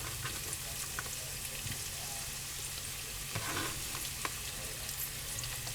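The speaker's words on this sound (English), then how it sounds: "I'm going to keep stirring them so I have crispy potatoes." Potatoes and sausage frying in a pan, a steady close sizzle with occasional scraping and clinking as they are stirred, no talking.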